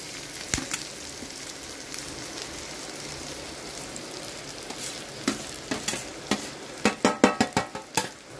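Onion and grated coconut roast in a pan for a green peas curry masala, giving a steady close sizzle that turns into a run of sharp, rhythmic scraping stir strokes near the end. No voices.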